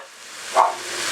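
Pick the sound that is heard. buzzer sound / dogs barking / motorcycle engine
dogs barking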